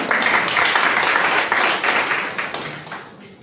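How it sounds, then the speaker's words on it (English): A loud round of applause from the audience at an official fund launch event at a Liberian ministry, many hands clapping densely before tapering off and fading toward the end. "I think they deserve a round of applause."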